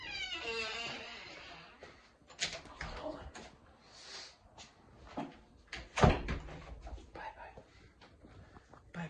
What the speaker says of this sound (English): this cat's just out of control